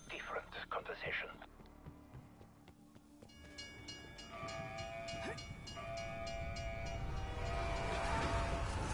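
A train rolls past on nearby tracks with a steady, building rumble and metallic ringing tones, growing louder toward the end, while someone talks over the start.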